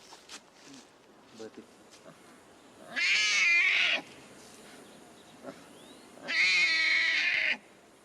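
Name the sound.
newborn big cat cubs mewing in captivity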